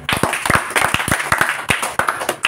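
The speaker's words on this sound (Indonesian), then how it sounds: "Tepuk tangan, tepuk tangan." Clapping from an audience at a religious talk, loud individual hand claps in an uneven, quick rhythm close by, with no speech over them.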